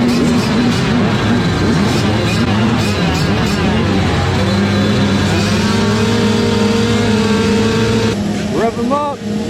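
Several race car engines rev and drone together on the grid before the start, a loud, dense roar with rising and falling pitches and a brief surge near the end.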